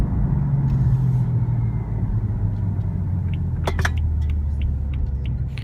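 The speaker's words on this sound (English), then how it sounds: "The BMW M3 exhaust sounds really good" Exhaust note of a 2016 BMW M3 sedan with a double-clutch transmission: a deep, steady rumble heard from inside the car, with a few brief clicks and rattles over it.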